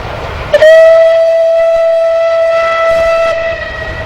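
Two West Country class steam locomotives at Bicknoller on the West Somerset line sound a loud, sustained whistle that holds a steady tone for about three seconds before fading off.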